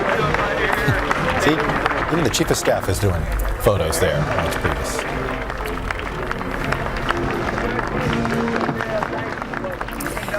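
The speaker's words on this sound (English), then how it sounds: "And you can hear that applause." Applause and cheering from a large outdoor crowd at a presidential inauguration greet family members walking into public view, a steady wash of distant clapping that runs beneath close, continuous commentary from a man.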